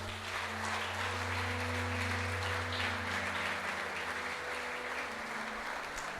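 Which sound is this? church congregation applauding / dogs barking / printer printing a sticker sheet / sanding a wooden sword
church congregation applauding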